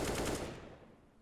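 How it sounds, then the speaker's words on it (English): Rifle gunfire from an M4 and an AK in a Counter-Strike: Global Offensive match, a short rapid burst of automatic shots that fades quickly. "that's the M4 up against the AK"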